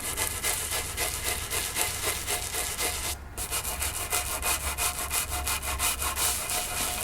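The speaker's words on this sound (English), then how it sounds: "I'm just gonna give it a bit of a scrub for these harder spots where the wax is really dug into the grooves of the wood." Wood grooves packed with wax are scrubbed with quick back-and-forth brushing strokes, a dense rhythmic scratching close up with one brief pause in the middle.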